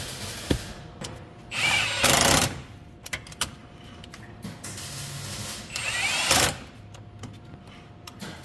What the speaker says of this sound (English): just drill through the chassis, drill that bolt through the chassis